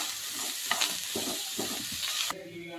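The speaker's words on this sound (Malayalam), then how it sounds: "ഒരു മീഡിയം സൈസ് ബീട്രൂട്ട് ചെറുതായിട്ട് അരിഞ്ഞു വെച്ചതാണ്. ഇത് നമുക്ക് ഇതിലേക്ക് ചേർത്ത് കൊടുക്കാം. എന്നിട്ട് നന്നായിട്ടൊന്ന് കളർ ചേഞ്ച് വരുന്നത് വരെ വഴറ്റി കൊടുക്കാം." A medium beetroot, finely chopped, sautéed in a pan for beetroot chutney: steady sizzling frying with several distinct spoon scrapes and stirring strokes, close up, no voices.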